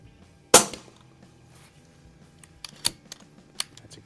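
Air rifle shots from a Umarex Notos firing Crosman Premier hollow points at an outdoor range, 25 yards: one sharp loud crack near the start, then a few fainter clicks and pops, with no talk.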